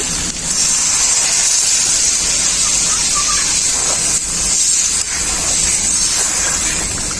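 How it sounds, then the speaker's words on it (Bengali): Water is poured into fried spiced masala for a fish curry with potato and eggplant, setting off a loud, steady sizzling hiss in the pan that runs continuously. "এখন পরিমাণ মতো জল দিয়ে দেবো ঝোল বানানোর জন্য"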